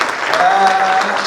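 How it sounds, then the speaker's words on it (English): Audience applause at an engineering, iron and steel industry report launch, a short loud burst of dense clapping with a brief tonal sound and faint voices mixed in. "A big round of applause, ladies and gentlemen."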